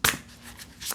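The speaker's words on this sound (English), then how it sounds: "let me just shuffle a bit more" Tarot cards being shuffled, a quick riffling burst at the start followed by a softer rustle near the end, close and fairly quiet with no talk.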